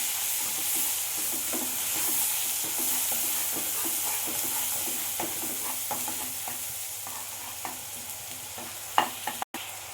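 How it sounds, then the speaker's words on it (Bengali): Ground onion paste is stirred and scraped around a hot pan of oil for a rahu fish curry, giving a steady sizzle and hiss. Irregular soft scraping strokes run throughout, close and alone, with a sharper clatter near the end. "ভালো করে আমি একবার নাড়াচাড়া করে নেব।"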